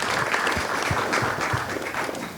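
Audience applause at a book launch for a history of Reserve Bank of India governors, a steady, full wash of many hands clapping throughout, fairly close and loud.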